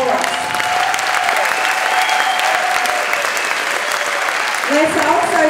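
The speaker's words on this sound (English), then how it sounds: "Let's give a round of applause for Eastway High School" An audience applauds a school chorus at an evening concert, sustained steady clapping filling the hall throughout with a slight swell near the end.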